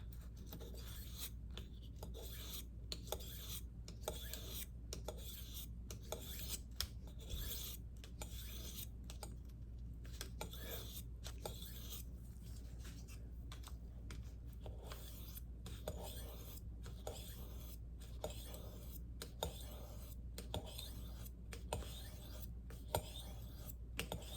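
A steel blade is honed on a hard Arkansas sharpening stone, producing a steady run of rhythmic rasping strokes, close and fairly quiet, with no talk.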